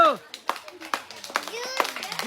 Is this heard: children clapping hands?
yes